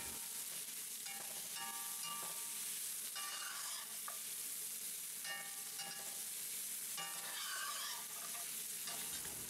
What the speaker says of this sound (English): Now all we add are some onions and stir it all together.